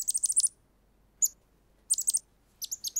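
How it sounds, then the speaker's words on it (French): A small bird in an animated children's cartoon chirps in quick bright bursts, four clusters of rapid high tweets separated by short silences, close and clear with no talking. "D'où vient ce petit oiseau?"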